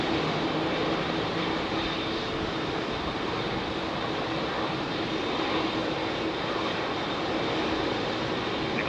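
An Airbus A318 jet airliner departs London Heathrow runway 27R, its engines giving a steady, broad roar that holds at a fairly constant level throughout with no voices.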